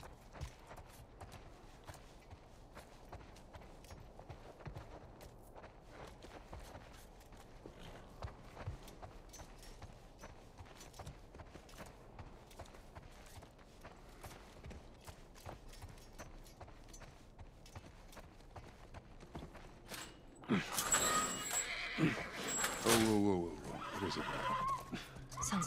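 Horse hooves clopping and a horse neighing in The Last of Us Part 1, a walking rhythm of faint hoof steps through most of the stretch, then a louder burst of whinnying and commotion near the end, with speech present.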